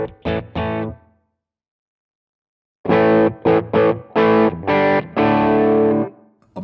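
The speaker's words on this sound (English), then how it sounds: "I'm just going to flick through some of the different amps so that you can hear it" Electric guitar played through Sonicake Matribox 2 Pro amp models, loud distorted chords struck in short bursts, a few quick stabs, a pause, then a longer run of punchy chords that ring out at the end.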